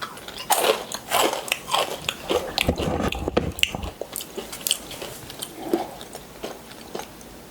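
Mala-flavored tteokbokki is bitten and chewed up close in a quiet room, giving a rapid, irregular run of soft, wet, squishy bites and chews with no speech.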